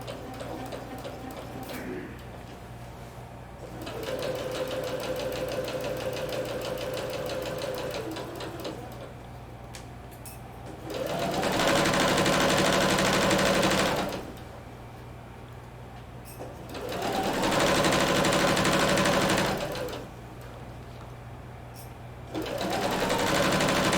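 A sewing machine back stitches along a skirt seam, its motor running in steady whirring bursts of a few seconds each with brief pauses between passes, close and clear with no talking.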